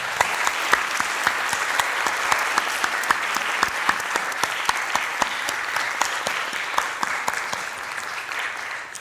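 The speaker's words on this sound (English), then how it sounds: "Let's all give a round of applause." Conference audience applauding after a climate justice session, sustained and even with distinct individual claps audible through the dense crowd sound, close and continuous.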